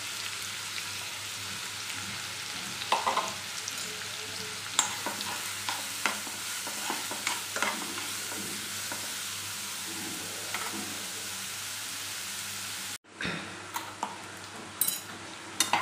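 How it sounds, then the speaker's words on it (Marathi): Onions sizzling in hot oil with cumin seeds, stirred with scattered utensil taps against the pan, steady close frying hiss throughout, briefly cutting out near the end before resuming. "तेल तापलं की जिरे टाकून घ्यायचे आहे आणि याच्यामध्ये टाकायचा आहे भरपूर सारा कांदा"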